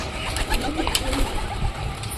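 Golden Cross Kamagar pigeons coo close by in a steady, throaty murmur that continues throughout, with a brief louder rustle at the end.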